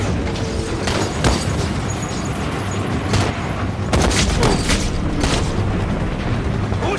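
Artillery shells from field mountain guns burst in a Chinese TV drama battle scene, a dense rumbling barrage with several sharp booming blasts rising above a continuous roar of war noise, loud and close, without speech.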